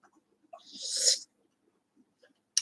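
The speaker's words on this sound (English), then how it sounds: "he'll bark really loud to try to hear himself" An old dog that is losing his hearing lets out a single loud, rough bark in a quiet room, followed by a short sharp sound at the end.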